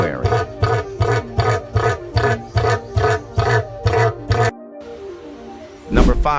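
Cassowary call: a series of about ten loud, deep booming pulses in a steady rhythm, followed by a brief pause and a final harsh burst.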